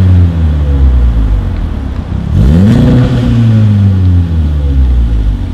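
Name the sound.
VW Golf R MK7 with Armytrix exhaust, valves open, accelerating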